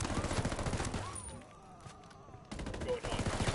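Video game gunfire in rapid bursts, loud and close at the start, dropping away briefly, then resuming in quick rattling volleys alongside a faint voice.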